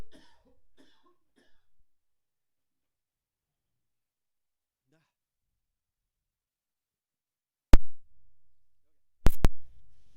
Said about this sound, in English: You guys probably hear some sound. I was coughing